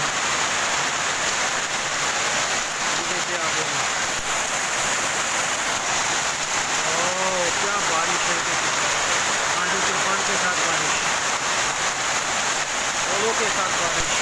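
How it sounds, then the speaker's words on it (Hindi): Heavy hail pelting down with rain in a park in Delhi, a dense, steady hiss of countless impacts without pause, with people talking and exclaiming over it at intervals. "ये देखिए कितने ओले पड़ रहे हैं।"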